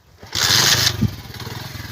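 A motorcycle engine runs close by in a village in Punjab, Pakistan, giving a loud rough burst of revving that cuts off and then drops back to a steady low idling putter.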